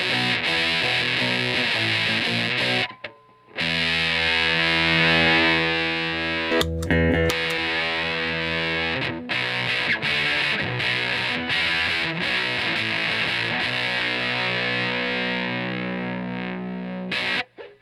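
Electric guitar through a Fuzz Rite fuzz pedal with its tone control adjusted, giving a loud, thick, saturated fuzz tone. Chords and riffs ring almost continuously, with a brief drop near the start and a few quick breaks later on.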